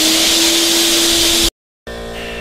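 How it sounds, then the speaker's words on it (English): A shop vacuum runs with a steady, loud broadband roar while it pushes air through the exhaust of a 1988 Mazda RX-7 FC3S to check for leaks; it cuts out briefly, then starts again. "we're gonna turn the vacuum back on and double check those leaks"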